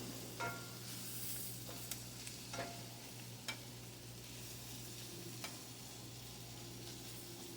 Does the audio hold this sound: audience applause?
no